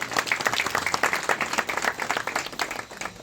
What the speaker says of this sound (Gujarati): તાળી પાડીએ.